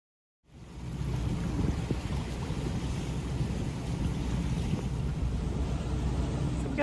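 A boat's engine rumbles steadily after a brief silence, low and continuous, with wind and water noise around it.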